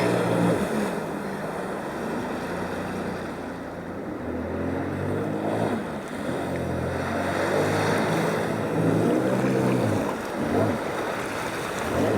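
A personal watercraft's engine hums continuously as the jet ski rides around a full ranch stock tank, the steady motor drone rising and falling slightly amid wind noise and water wash.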